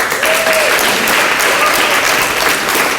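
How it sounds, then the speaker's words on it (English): Audience applause for the speakers at a vegan muscle panel talk, with a dense, steady wash of clapping from a crowd filling the whole stretch, loud and close, with no talk over it. "So I want to give a round of applause to all our speakers."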